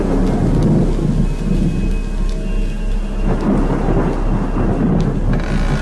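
Heavy rain pours in a dense, loud, constant roar while low rumbles of thunder roll underneath, a movie storm sound effect with no voices.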